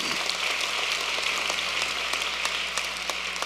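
Congregation applause during a church sermon, a dense, continuous wash of clapping from many people with a steady low hum underneath, no voices over it.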